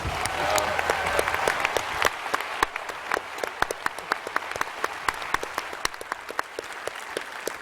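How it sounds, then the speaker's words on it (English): Audience applause at a PAX East 2017 gaming panel for Mass Effect Andromeda. A crowd wash is punctuated by sharp, distinct individual claps that ring out at a regular pace as the clapping gradually thins. "So everyone give Ian a round of applause."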